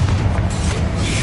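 A Confringo explosion spell from Hogwarts Legacy goes off as a single loud, deep boom that rumbles briefly up close and then fades.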